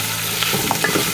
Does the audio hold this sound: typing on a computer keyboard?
no